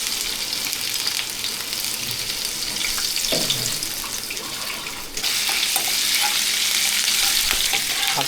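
Onion and garlic fry in hot oil, making a continuous bright sizzle with stirring noise, growing louder and denser partway through as more goes into the pan.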